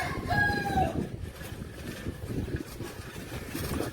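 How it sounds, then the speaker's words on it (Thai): Fighting cocks crowing outdoors, with one clear crow standing out near the start over a steady rumble of background noise. "ไก่ชนเยอะแยะหมด"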